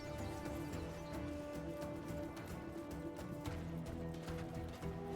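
In the video game Warframe, horse hooves clip-clop in a quick steady rhythm, moderately close, layered over a constant background hum and music-like drone.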